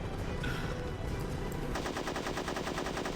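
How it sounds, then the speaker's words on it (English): Rapid automatic gunfire in a video game rattles continuously, loud and dense, traded with a helicopter over its steady rotor drone, the firing growing quicker and harsher partway through. "We're just gonna trade gunfire with this helicopter"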